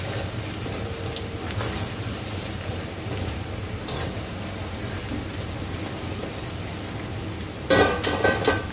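Moong pakode sizzle in hot oil on a high gas flame, a steady close hiss and crackle that continues throughout, with a brief louder spatter near the end.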